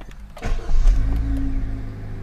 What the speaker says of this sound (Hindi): इंजन हमने स्टार्ट कर दिया